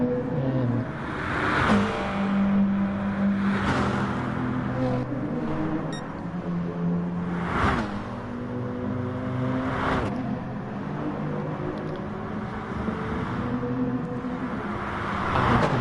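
GT1 race cars lapping the Interlagos circuit in a racing video game, giving a continuous engine drone with shifting pitch and periodic surges as cars pass and accelerate, steady and fairly loud throughout.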